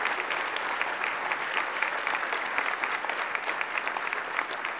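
Warm audience applause fills a campaign launch event for Centraide Outaouais in 2013: a dense, steady wash of many hands clapping, sustained at an even level throughout with no voices on top.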